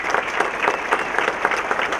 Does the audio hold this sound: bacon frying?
no